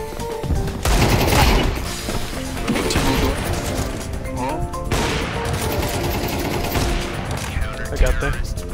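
Counter-Strike 2 gunfire crackles in dense bursts of rapid shots and impacts, loud and continuous, with in-game clatter mixed through.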